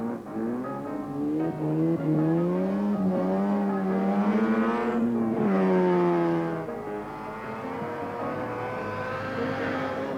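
Rally cars at the 1983 Sanyo Rally in New Zealand, near the last corner out of Mystery Creek: a loud, close engine note rising and falling with revs and gear changes, sustained throughout with no talk.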